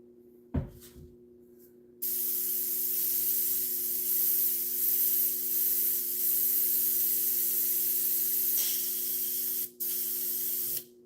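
A hobby airbrush sprays paint in a long steady hiss lasting several seconds, preceded by a couple of knocks and broken by a short pause before it resumes, over a constant electrical hum.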